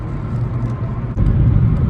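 Steady low rumble of passing road traffic, with engine drone building and a car sweeping louder near the end, heard without any talk.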